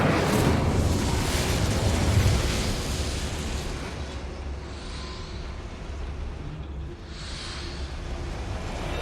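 A roaring burst from the Incendio fire spell in Hogwarts Legacy, loud and rumbling at first, then fading into a lower whooshing crackle with faint effects behind.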